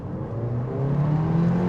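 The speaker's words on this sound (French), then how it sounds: "quand c'est haut dans les tours, ça fait vraiment le gros pète vraiment au passage de vitesse" Mercedes CLA 45 AMG engine revving up as it accelerates, a brief steady rising drone, moderately loud, no distinct pops standing out.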